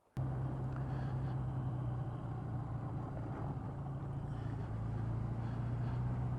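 Suzuki GS 1000 motorcycle cruising at night, its engine a steady, loud low droning hum with constant rumble throughout, starting abruptly after a brief quiet moment.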